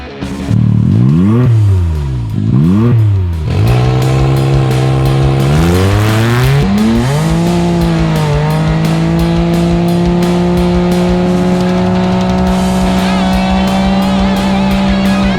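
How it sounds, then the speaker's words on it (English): A Can-Am X3 side-by-side in eco mode accelerates hard. Its engine whines loud and near, pitch sweeping up in repeated runs through the gears before settling into a steady, high drone. "let's go ahead and see what this Can-Am X3 can do"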